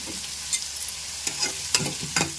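Ginger garlic paste fries in hot oil with a steady close sizzle, broken by several sharp scrapes and clinks of a spoon stirring against the pan.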